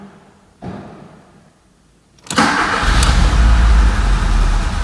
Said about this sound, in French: Est-ce qu'elle redémarre du quart de tour?